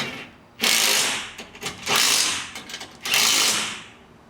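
Three bursts of a power driver or ratchet tighten a bolt on a TruckBoss truck deck, each a loud whirring run with short mechanical rattles between them.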